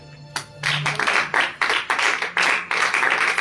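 A church congregation claps together in a quick, steady rhythm, loud and close, with a faint low sustained tone beneath the clapping and no voices.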